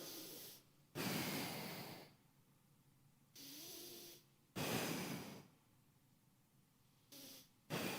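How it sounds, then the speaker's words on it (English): A man takes several deep, loud breaths close to the microphone, each one a long, noisy rush of air in and out, with quiet pauses between them. "Can you hear me taking those breaths?"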